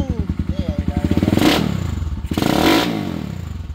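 A motorcycle runs close by in Guanacaste, its engine thumping in rapid regular pulses with a couple of swelling revs, while someone talks over it.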